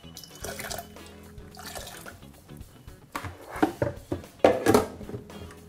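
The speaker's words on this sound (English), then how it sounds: "you blend and add water and ensure that the water cover it up to about 1 inch above the soya" Water pours from a tap onto soaked soya beans ahead of blending them for homemade tofu, a splashing stream that grows louder and more turbulent in the second half.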